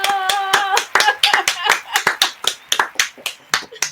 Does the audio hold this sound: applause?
yes